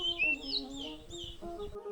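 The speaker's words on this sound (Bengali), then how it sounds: "পাখির কিচিরমিচির শব্দ" Birds chirp and whistle in short, bright calls on a quiet village morning. The calls sound fairly faint over a soft, sustained tonal background.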